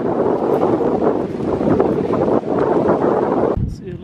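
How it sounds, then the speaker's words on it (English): Strong wind while hiking in Iroquois Park after heavy rain, a loud, continuous roar buffeting the microphone, steady throughout with brief rustling near the end. "It's getting very windy now."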